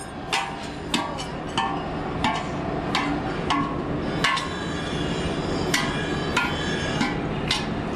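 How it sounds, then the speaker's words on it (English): A hammer chips excess metal off a freshly cast iron bell, with about a dozen sharp, ringing strikes at an irregular pace over a steady workshop background. "we'll grind the rest of that off or chip it off with a hammer"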